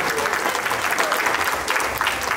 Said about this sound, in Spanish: yo les pido por favor un fuerte aplauso, por favor, para nuestra quinceañera